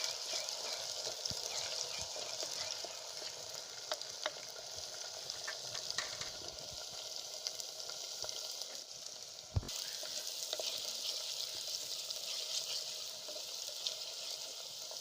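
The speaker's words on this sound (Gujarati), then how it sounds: "અને આ લીલું લસણ થોડી વાર આપણે એને સજળાવા દઈશું" Green garlic with chili paste sizzling in a pan over a stove fire, a steady dense frying hiss running throughout with faint stirring clicks and one brief scrape near the middle.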